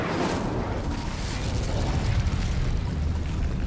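An Incendio fire spell is cast in Hogwarts Legacy, a loud, close burst of roaring flame that crackles and rumbles steadily before easing slightly.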